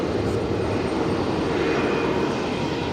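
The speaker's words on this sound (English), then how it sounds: "Air New Zealand lining up next for a full-length departure off of 19 left" Air New Zealand jet on a full-length takeoff roll from runway 19 left at Brisbane Airport, a steady, loud, broadband engine roar throughout.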